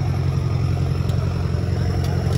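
John Deere or Mahindra 585 tractor at a tractor competition, its engine running with a steady, deep, continuous chugging rumble, close and fairly loud.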